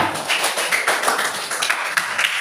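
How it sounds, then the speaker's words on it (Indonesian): Classroom applause for a student during a lesson on ritual bathing, a dense spread of overlapping hand claps at steady moderate loudness, with no speech over it. "Aplaus untuk Manohara"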